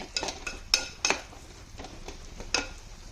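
Fish masala for a fish varattiyathu is stirred in a pan, with scraping strokes and several sharp metallic clinks of the spoon against the pan at an irregular pace, close and moderately loud.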